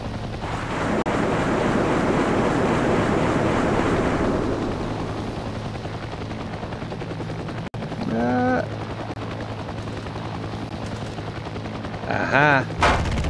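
Ground gunfire aimed at a helicopter in the video game Heliborne, heard as a dense rattle of shots with rotor and wind noise for the first few seconds before it fades, followed by a few brief electronic tones.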